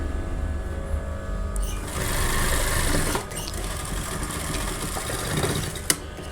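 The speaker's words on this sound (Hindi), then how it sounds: "तो हम सबसे पहले तो इसी के ऊपर मार्किंग के ऊपर सिलाई लगाएंगे" A sewing machine stitching along marked lines on a collar blouse runs in a steady close whirring drone, rising and easing in bursts with a brief click near the end, no voices.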